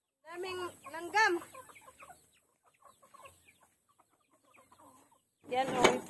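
Chickens cluck in short, close bursts as they are fed, with quieter scattered clucks and rustling in between and a loud flurry of clucking at the end.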